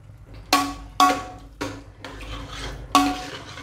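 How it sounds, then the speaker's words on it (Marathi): Wheat kheer is poured from a pressure cooker into a pot, with five sharp metallic clinks of the cooker against the vessel's rim spaced irregularly over a soft scraping background, with no talk. "मी आता हे कुकरमधून पातेल्यात खीर आता ओतलेली आहे"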